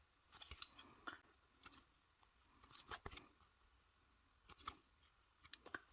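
Scissors trim the fabric corners of a sewn card slot, giving quiet, crisp snips in small clusters with short pauses between.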